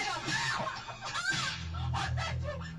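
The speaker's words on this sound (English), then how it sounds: "Listen to the chicken." Chicken clucking in short throaty bursts, several calls in quick succession, close and fairly loud over a low background hum.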